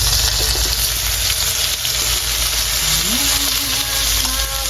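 Onions and chili frying with string beans for a Filipino pork adobo, a steady close sizzle that carries through the whole stretch, with faint background hum and no voice.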